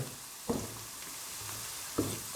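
Onion and ginger garlic paste frying in a karahi, a steady soft sizzle with two brief clinks of a spoon against the pan.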